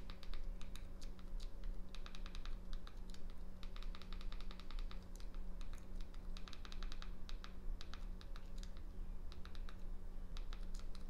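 Fingers type a short name on a computer keyboard in quick bursts of clicky keystrokes separated by pauses, close and clear over a steady low background hum.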